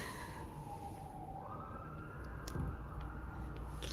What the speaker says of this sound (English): I'm pretty sure that's the ambulance